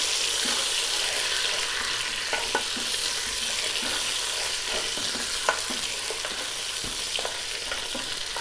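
Mutton pieces fry loudly in a pot for yakhni pulao, a dense continuous sizzle close up, with occasional soft scrapes and knocks as the meat is stirred and turned.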